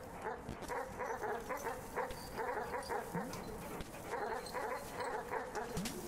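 A dog in the video game Animal Well yips and whimpers repeatedly in short bursts, a quick series of faint, high-pitched barks.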